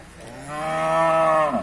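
Cattle lowing at a cattle market: a single loud, close moo that rises and holds steady, then breaks off, with no other sound around it.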